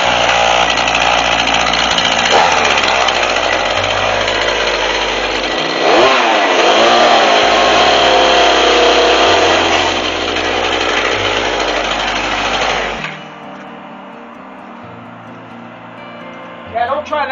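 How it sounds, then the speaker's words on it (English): A loud chainsaw roars and revs continuously for most of the stretch, rising and falling in pitch, then cuts off to quieter background noise near the end. "Okay, I gotta use my chainsaw."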